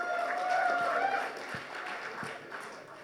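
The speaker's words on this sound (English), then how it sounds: "can you give a loud round of applause for Team Guitar, please?" A room of attendees at an Agile conference in Bangalore applauds a team, a soft, sustained round of clapping with some brief talk.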